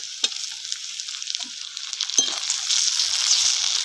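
Onions sizzle steadily in a pan over a clay stove as part of a Bengali-style chicken curry, with a few soft stirring scrapes and clinks near the start and a hiss that swells slightly toward the end.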